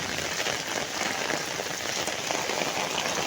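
Heavy rain pours down steadily, a dense continuous hiss of drops drumming on surfaces, fairly close and unbroken, with no voices.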